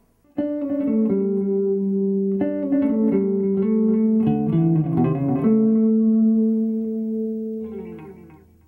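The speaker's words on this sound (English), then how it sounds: "Here's some analog delay." Sustained electric guitar notes ring out with a soft repeating delay trailing behind them, the chords blending and echoing before fading at the end.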